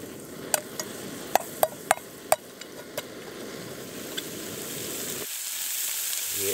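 Thick peppered bacon fries in a pan outdoors on a backpacking trip, giving a steady close sizzle with scattered sharp pops and crackles, then a quieter hiss at the end.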